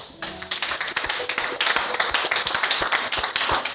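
A church congregation claps together in steady, lively rhythm during a worship service, the dense applause close and loud, with faint cheering mixed in and no clear speech.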